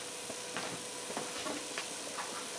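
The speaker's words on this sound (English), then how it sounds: "And stir it, stir it, stir it." Cheesy spaghetti being stirred in a hot pan, with soft scraping strokes repeating every half second or so over a steady, quiet sizzle.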